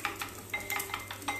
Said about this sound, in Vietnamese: Mỡ nó sôi đúng rồi, nó bắn.